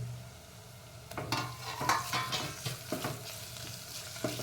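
Ginger and garlic paste sizzle in a pan with cooked onions for masala khichdi, a steady close fry broken by scraping stirs and light clinks.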